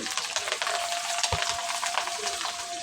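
Onions fry in a pan with a dense, steady sizzle while they are stirred, and a few soft scraping knocks come from the stirring. No voices can be heard over the cooking.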